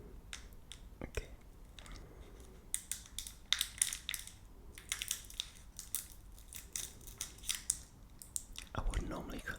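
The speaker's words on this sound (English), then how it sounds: "I wouldn't normally cut these all open with a pair of scissors" Sharp, close-up snips and crinkly crackles of scissors cutting open a Cadbury Roses hazelnut caramel wrapper, in irregular bursts with quiet pauses between them.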